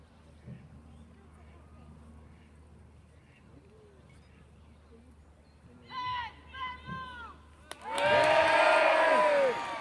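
A crowd at Warwick Castle cheers a trebuchet fireball launch: faint murmuring first, then short whoops and shouts, ending in a loud, sustained roar of cheering.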